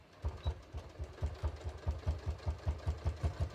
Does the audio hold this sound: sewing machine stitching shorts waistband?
yes